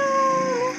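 A single drawn-out cat meow, close and loud, rising and holding with a slight downward bend at the end.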